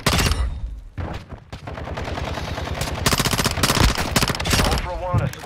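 Automatic weapons fire in Call of Duty: Modern Warfare II at Al Mazrah, rapid loud bursts rattling almost continuously over a few seconds, with radio voices speaking in places.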